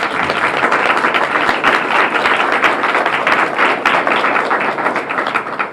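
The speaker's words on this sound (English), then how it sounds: "just want to give them a round of applause." A sustained round of applause from a large crowd, dense steady clapping at a loud, even level throughout with no talking.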